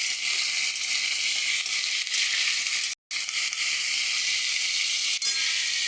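Potatoes frying in a pan make a loud, continuous, close-up sizzle with a steady hiss that drops out once briefly before carrying on.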